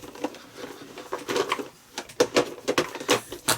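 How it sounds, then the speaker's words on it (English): Irregular clattering and knocking of objects being handled and set down nearby, short taps and rustles in uneven bursts. "Just excuse the noise of me putting it all away."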